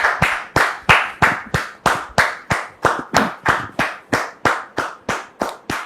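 A studio audience on a TV set claps in steady rhythmic unison to welcome a guest, with about sixteen sharp, loud, evenly spaced beats and no talking.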